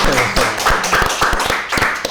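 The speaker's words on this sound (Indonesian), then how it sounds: "Tepuk tangan." An audience claps for a hospital director at an event, steady, fairly loud hand claps in a regular beat that fill the whole short stretch, with a faint voice in the background.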